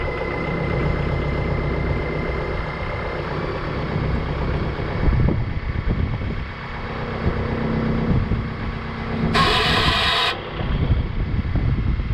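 A homemade limb saw built from a pole saw runs its motor continuously, a steady mid-pitched whirring drone holding close and even throughout, with a brief brighter whine surging near the end.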